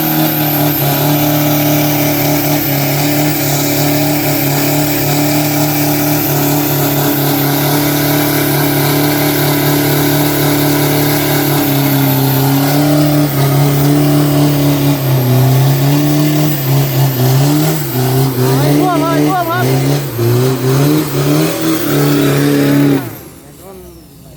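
A 2500cc steel-bodied race car accelerates during qualifying at the Na Kluea track, a loud sustained engine roar that climbs and wavers in pitch before cutting off abruptly near the end.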